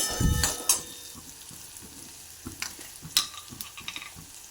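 Tomatoes frying in a pan for mixed dal, a steady low sizzle broken by scraping and stirring clatters from a utensil, with no talking.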